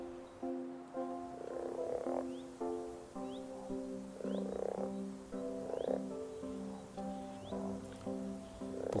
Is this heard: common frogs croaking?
yes